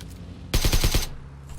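A short, loud burst of about five rapid gunshots in the video game PUBG Lite, evenly spaced and punchy, standing out against quiet game ambience.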